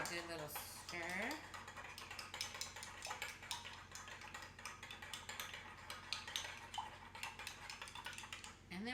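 Spoon stirring an apple cider vinegar mixture in a bowl for gluten-free, dairy-free cornbread, giving quick light clinks and scrapes over steady background music.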